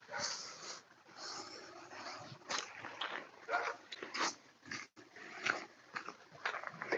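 A small dog barks and growls in a busy, continuous run of sound, close and fairly loud, with no talk over it.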